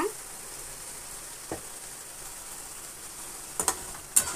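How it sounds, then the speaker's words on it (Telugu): Onions frying in a pan give a soft, steady sizzle with a few light clinks or stirring taps near the end, with no talk over it. "ఇటు పక్కన వచ్చి ఆనియన్స్ ఫ్రై అయిపోతున్నాయి"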